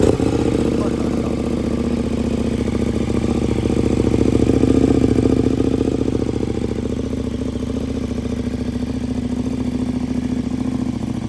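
A KTM Super Duke 1290 R motorcycle with an aftermarket exhaust idles after a cold start, a steady rumbling throb that swells slightly midway, close and loud, with faint voices underneath.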